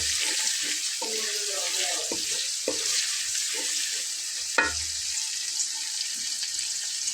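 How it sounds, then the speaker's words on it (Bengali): Onions frying in a pot with whole spices and white peppercorns for beef tehari, a steady loud sizzle running throughout with a few clinks and scrapes of stirring, no voices. "খুব ভালো করে একটু লাল করে ভেজে নেব পেঁয়াজটাকে।"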